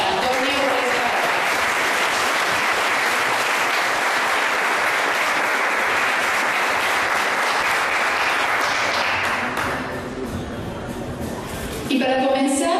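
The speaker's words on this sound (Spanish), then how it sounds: "Les pedimos por favor otro fuerte aplauso para Antonio Ruesga Barba." Loud, dense applause from a large audience honoring Antonio Ruesga Barba at a Spanish-language book event, sustained for about ten seconds before thinning out, with voices rising near the end.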